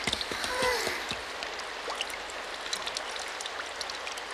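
Heavy rain pours steadily as a broad hiss of falling water, fairly loud and continuous, with a few faint voices and brief sounds near the start.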